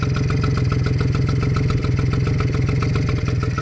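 A 1978 Yamaha Chappy LB50 small motorcycle engine idling close up, a loud, steady, rapid chugging pulse with a metallic clatter running evenly throughout.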